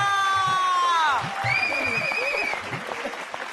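A crowd applauds for Rahul Sheth: a sweeping musical tone fades out, then steady, fairly loud clapping follows, with scattered cheers and voices mixed in.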